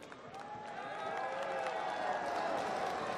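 Spectators at a cricket T10 final in Abu Dhabi applaud and cheer continuously, a broad wash of clapping and crowd noise that swells slightly louder partway through.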